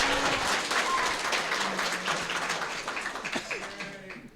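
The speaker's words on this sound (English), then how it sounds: "You may applaud now." An audience at a convention panel claps, a brisk patter of many hands that starts strong and gradually tapers off, with a few voices and cheers mixed in.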